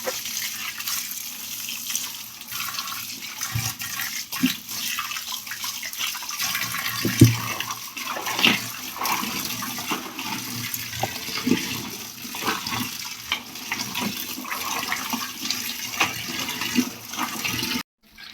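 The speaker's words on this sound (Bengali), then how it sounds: "ভালোভাবে ঘেটে ঘুটে দিব।" Water being stirred into a special juice mixture for pond fish fry, a steady sloshing, swirling wash of liquid close by that runs throughout with occasional splashes and no talking.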